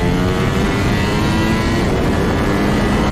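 A Ducati Panigale V4S motorcycle accelerates hard on the road, its engine a loud, continuous, rising roar that fills the whole stretch without pause.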